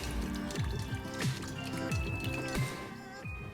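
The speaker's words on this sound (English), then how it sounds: "I'm just going to add nearly 20 mils of extra virgin olive oil and create a very simple yet beautiful emulsion out here." Extra virgin olive oil is poured into a whisked salad dressing, giving soft liquid drips and wet squishing with irregular gurgles, quiet and close.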